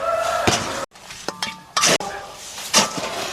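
Animal feed with kelp being stirred in a metal container, giving a few sharp clanks and scraping rattles separated by short pauses, close by.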